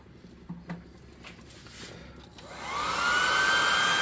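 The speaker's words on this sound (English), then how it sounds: "I'm going to hit him with the +2 hot air gun real fast" A hot air gun starts up and blasts steadily to dry the outer paint coating on a tabletop miniature model, preceded by a few quiet handling taps, then a loud, even rushing whoosh with no talk.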